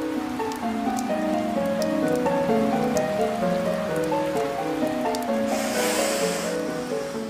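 Continuous heavy rain hisses and splashes throughout, with a gentle melody playing beneath it and a brief louder rush near the end.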